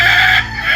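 Filipino warrior chickens heard up close: a loud rooster crow that trails off into lower clucking, with no voices.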